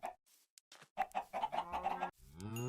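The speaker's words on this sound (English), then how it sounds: "thankfully chickens are fairly easy to farm" Chickens cluck in the video game Minecraft, a quick run of close, repeated clucks and squawks, with no talking over them.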